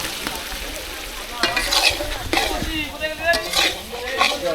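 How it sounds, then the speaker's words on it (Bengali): Pre-fried potatoes go into a cooking pot and get stirred, with sizzling oil and repeated scrapes and clanks of a spoon against metal, loud and close. "ভেজে রাখা আলুগুলো দিয়ে দিলাম"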